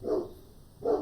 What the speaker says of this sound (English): damn dog is going off.